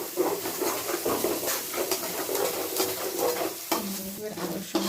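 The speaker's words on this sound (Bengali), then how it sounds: "পেঁয়াজটা হালকা ভেজে এসছে। এবার আমি এতে দেবো 1 চামচ আদা রসুন বাটা।" Onion and ginger-garlic paste frying in a pan, a steady close sizzle with repeated scraping stir strokes, a fresh burst of hiss near the end as more goes in.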